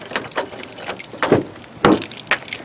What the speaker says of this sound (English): I will get the keys out of my pocket